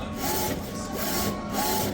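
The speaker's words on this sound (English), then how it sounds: "Let's just let this print out for a sec here." A DTF printer runs a print job with its print head connected, giving a steady, close mechanical whir and hum that holds at an even level the whole time, with no voices.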